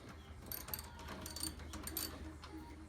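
A ratchet clicks in quiet, rapid, uneven bursts, loosening 10mm headlight bolts on a Scion FR-S during a BRZ headlight swap, the faint metallic ticking continuing steadily throughout.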